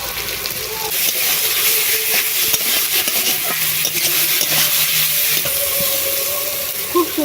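Kohlrabi, potato and tomato fry steadily in a pan in a village kitchen, giving a dense, even sizzle and hiss with scraping stirs throughout, close and fairly loud.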